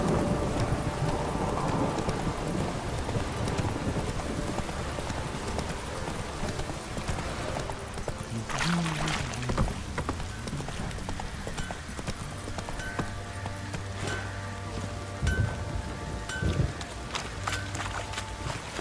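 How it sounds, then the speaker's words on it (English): Horse hooves clip-clopping at a run through a heavy downpour in The Witcher 3, the rhythmic hoofbeats close and steady over a constant rain hiss, with a brief louder clatter midway. "Don't stop raining, my arse will rot off."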